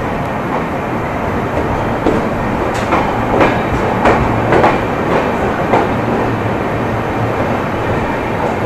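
The LHB Karnavati Express pulls out of Vapi station, its coaches rumbling steadily with rhythmic clickety-clack wheel beats heard up close from on board.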